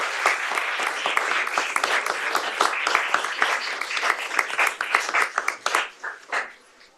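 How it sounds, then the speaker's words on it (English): An audience at a Cocoa city council meeting applauds, a dense run of clapping heard close that thins into a few scattered claps before fading out. "let's give him a round of applause"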